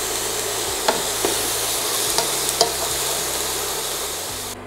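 Diced potatoes with butternut squash and courgette sauté in a pot for minestrone, sizzling steadily with a few sharp clicks and scrapes of a utensil stirring against the pot, close and loud, no talk.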